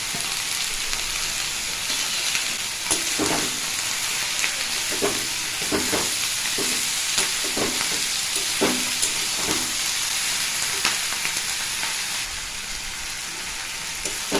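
Dried fish curry with winter vegetables, green chillies and chilli powder fries in oil, a steady close sizzle broken by bursts of stirring scrapes, with no voices.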